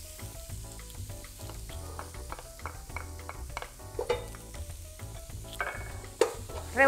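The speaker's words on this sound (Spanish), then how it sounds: "Y en esta misma grasa que soltó la tocineta, ahora voy a agregar mi cebolla" Onion and garlic fry in rendered bacon fat under a quiet, steady sizzle, with stirring scrapes and a few sharper utensil knocks near the end.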